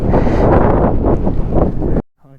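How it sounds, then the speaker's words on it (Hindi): Strong wind in Skardu buffets the microphone in heavy, roaring gusts, then cuts off abruptly into near silence. "बहुत तेज़ हवा है"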